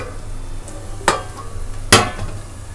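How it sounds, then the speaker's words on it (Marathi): Onion sautéing over low heat in a pan for a rustic village-style chicken curry, a steady soft sizzle with two brief louder stirring scrapes partway through, no talking. "कांदा जरा परतून घेऊया."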